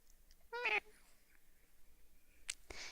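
A person imitates a cat with one short, close meow early on, quiet and intimate in an ASMR setting, followed by soft breathy noises and a brief whisper near the end.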